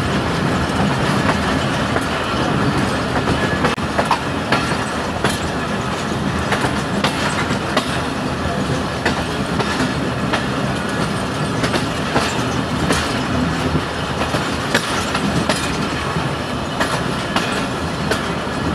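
A Subak Raftar railcar, train 101 led by locomotive GU20, passes on an adjacent line in Pakistan, a loud, steady roar of wheels and rail clatter filling the whole stretch with close, continuous clickety-clack.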